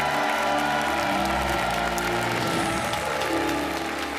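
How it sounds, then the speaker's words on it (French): A TV game show studio audience applauding loudly and continuously, with some cheering mixed in and music playing beneath the clapping. "je voudrais qu'on applaudisse encore plus fort"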